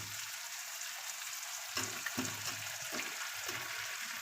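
Fried potatoes drop into a pan of chicken kosha, a quiet steady sizzle giving way midway to a few sharp clatters and stirring scrapes as the pieces land and get mixed, close and without talk.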